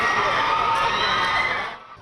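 A dense crowd of fans on a packed Paris street near the Louvre cheers and shouts loudly as BTS's Jin appears as an Olympic torch-relay runner, a sustained roar that fades out at the end.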